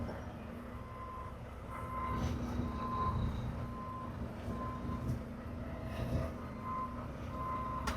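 A truck reverses during a drop-and-hook trailer delivery, its backup alarm beeping steadily about once a second over a low engine and yard rumble.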